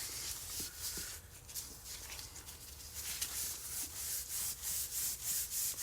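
A Scotch-Brite pad scrubs the front wheel hub of a 2006-2010 Hyundai Sonata during a wheel bearing replacement, giving a steady close abrasive rubbing with rhythmic strokes that swell toward the end, with no talking.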